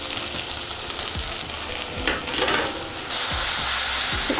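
Ground dried red chilli paste, made from five or six chillies, goes into hot oil for a Bengali mutton curry. It crackles and sizzles steadily with a few spoon scrapes, then the hiss swells louder and stays constant.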